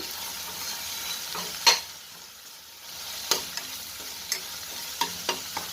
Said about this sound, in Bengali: আদা ভাজা বেশি হয়ে গেছে